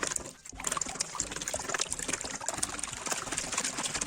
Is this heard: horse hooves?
no